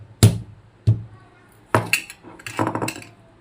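A whole nutmeg being split in half in a kitchen makes several sharp cracking knocks: two single hits, then a cluster of rapid clicks and snaps, close and dry.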